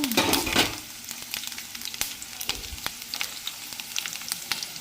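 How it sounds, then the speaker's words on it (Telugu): Sliced onions fry in hot oil with a continuous crackling sizzle, punctuated by sharp pops and occasional stirring scrapes, loud at first and then settling to a steady hiss with no talk. "ఆయిల్ వేసిన తర్వాత ఒక 20 ఉల్లిగడ్డలు అయితే వేసుకోవాలి."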